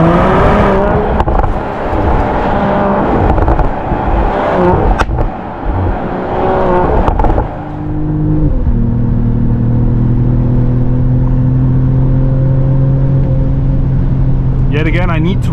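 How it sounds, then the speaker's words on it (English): A 2025 Mercedes-AMG GLE53 hybrid coupe's six-cylinder engine accelerates hard in Sport Plus on the German Autobahn, a loud, close roar that climbs through gears, then settles into a steady high-speed drone with wind and tyre noise. "And then switch it to Sport Plus, 6 cylinders on, and there we go."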